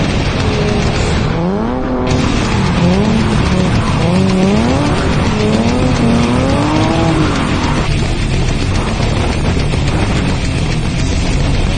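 A BMW E46 drifting on a track, its tires squealing in long wavering tones over a loud, steady engine roar throughout, with no talking.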